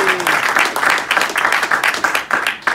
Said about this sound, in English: just a quick round of applause for the newly crowned WBO Middleweight Champion of the World, Demetrius "Boo-Boo" Andrade.